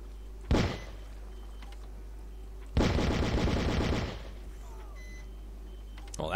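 Automated turrets in the PC game Outcast open fire in two bursts: a short sharp volley, a pause, then a longer rapid, loud stretch of gunfire, with faint electronic beeps afterward.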